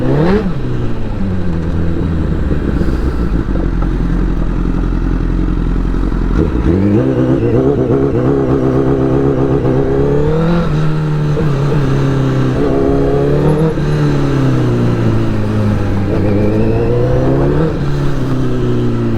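A motorcycle engine idles loudly up close, then revs repeatedly, the exhaust note rising and falling in several surges.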